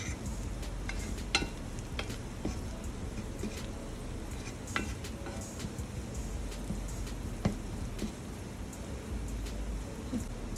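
Aromatics for pumpkin soup sauté in a pan with a soft, steady sizzle, broken by scattered clinks and scrapes of a utensil against the pan.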